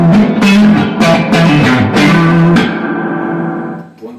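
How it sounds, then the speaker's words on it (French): A restored 1965 Fender Deluxe Reverb guitar amp, AB763 circuit, pushed hard into saturation: loud overdriven guitar chords struck in a quick rhythm, then a held chord ringing out and fading with reverb. "Je vais pousser au-delà, je vais saturer carrément."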